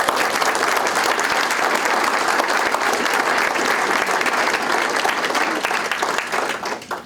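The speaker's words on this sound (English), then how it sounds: "please join me in giving our judiciary a round of applause" Sustained audience applause fills a Yom HaShoah commemoration ceremony in Rockland, steady and dense for about six seconds before thinning out toward the end.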